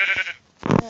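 A sheep in survival mode of a blocky sandbox video game gives two short bleats, the second louder and harsher, with a brief gap between them.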